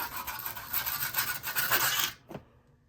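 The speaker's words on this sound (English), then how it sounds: "take our trowel" A trowel scrapes across packed casting sand to level it in a mold before pouring silver, giving a steady, close gritty rasp for about two seconds that stops abruptly, followed by one faint scrape.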